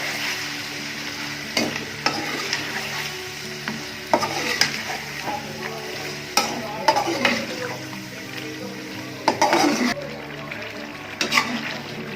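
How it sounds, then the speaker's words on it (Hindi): Green chicken karahi fries and is stirred in a pan, a steady close sizzle broken by irregular scrapes and clinks of a utensil against the metal. "तो इसको भून लेंगे अच्छी तरह"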